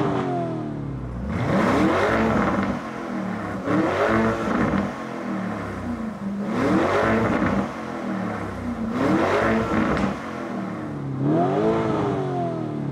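Lamborghini Urus engine in Corsa mode with exhaust flaps open, revved repeatedly in a driveway: five loud, rising blips spaced a couple of seconds apart, each climbing sharply then falling back to a rumbling idle.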